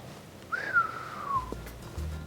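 A human voice whistles to imitate air rushing past the intake valve of a 2023 Lexus LC500h engine: one rising, then slowly falling whistle lasting about a second, close and clear, followed by a faint low thump.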